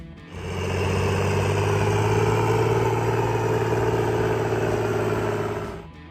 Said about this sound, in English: a bigger, stronger machine that redefined modern horsepower. The John Deere 4020.